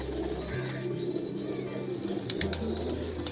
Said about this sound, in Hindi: ये सारे बड़े कबूतर हैं।